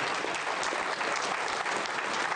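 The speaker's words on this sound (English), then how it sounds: "Now, you can applaud for that one, Perry." Applause from an audience, a steady crowd clapping at moderate volume throughout, slightly distant and even in texture.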